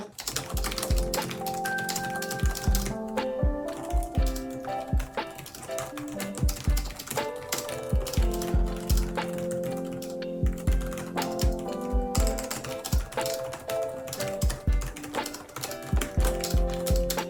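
Steady close-up typing on a computer keyboard, a continuous run of clicking keystrokes with brief pauses and faint background tones underneath.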